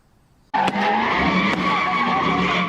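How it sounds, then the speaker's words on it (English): Cars spinning donuts on Oakland streets, tires skidding and squealing loudly in a sudden sustained screech that starts after a quiet half-second and holds steady, with a couple of sharp bangs mixed in. "cars doing donuts"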